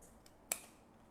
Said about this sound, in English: just put a little click, you know, of your scissors there and then cut it